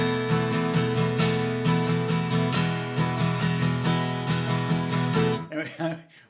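Steady guitar strumming in a lilting 6/8 groove, repeated chord strokes with clear rhythmic accents, close and fairly loud, fading out at the end; no talking.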